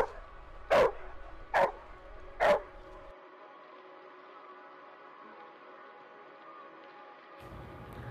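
A reactive dog lets out three loud, sharp barks in quick succession near the start, then falls quiet against steady low background hum.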